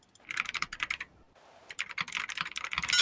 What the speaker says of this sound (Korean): 조용히 키보드 소리 다 들려